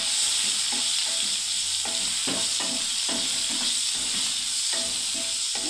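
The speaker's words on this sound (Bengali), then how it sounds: "আমি নাড়তে থাকছি পটলগুলোকে" Pointed gourd sizzles steadily as it fries in a pan, with repeated scraping strokes of a spatula stirring through the pieces, close and continuous without talk.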